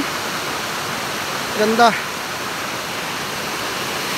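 Water pours steadily down Banti waterfall, a broad, constant rushing wash heard up close, with a brief voice speaking over it partway through.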